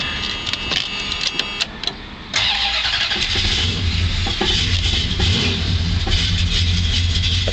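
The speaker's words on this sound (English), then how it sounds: "Now, let's start the car up." A 1970 Plymouth GTX wagon's V8 engine cranks with a few short starter bursts, then catches and settles into a steady, loud rumbling idle close by.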